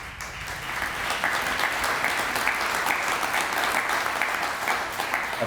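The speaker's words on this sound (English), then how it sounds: "Apparently I should take more dramatic pauses because I get applause in between" Steady, full audience applause at a Newport Beach mayor's reception and volunteer awards ceremony, a crowd clapping continuously at even loudness for several seconds.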